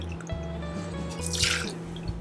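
Vodka, two ounces for a Bloody Mary, poured into a glass: a short, gurgling trickle of liquid with drip-like pulses, brief and close, then a bright splashy swell as the pour finishes, no voices.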